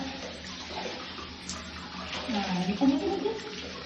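Warm water pours and splashes over a dog's back during a bath, close by, growing louder toward the end, with a faint voice in the background.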